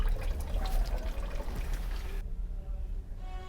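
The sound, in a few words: washing clothes by hand in water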